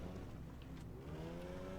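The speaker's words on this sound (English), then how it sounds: "Sounds like you're just idling over here." A faint engine idles in the game Teardown with a low, steady hum and a slowly rising whine, quiet and continuous with no voices.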